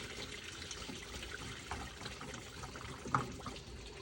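Coolant water draining out of a 2017 VW Transporter 2.0 diesel engine, a steady close splashing trickle that runs the whole time, with one brief louder splash near the end.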